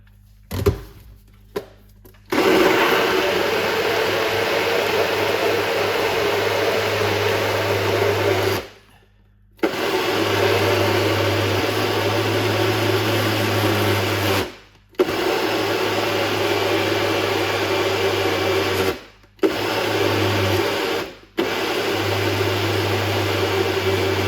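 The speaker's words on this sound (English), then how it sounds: "We're gonna blend up this." A countertop blender whirs steadily while blending pineapple, ginger and turmeric juice, running in long loud stretches broken by several brief pauses, with no talk.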